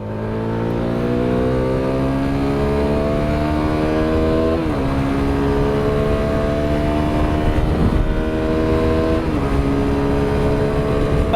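A 2022 CFMoto 300SS motorcycle accelerates hard in third gear from about 40 to 80, its engine note rising steadily and loud and close. Two brief dips in pitch break the climb before it pulls on.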